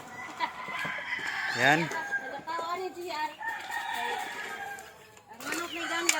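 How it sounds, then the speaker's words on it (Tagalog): A rooster crows loudly over a yard of chickens being fed, with scattered clucking and busy poultry chatter around it and a person's voice briefly speaking. "nagpakain pa kami ng mga manok"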